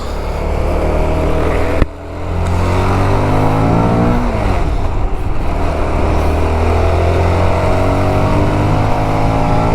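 The cold engine of a Liebherr 918 excavator runs loud and close in a continuous drone, dipping briefly before its pitch sweeps up and settles back into a steady, heavy hum.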